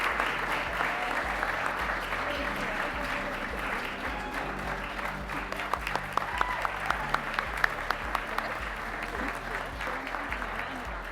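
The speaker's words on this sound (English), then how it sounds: "Let's give a big round of applause" An awards ceremony audience applauds steadily, a dense wash of clapping hands that holds for several seconds with a few sharper claps standing out near the end.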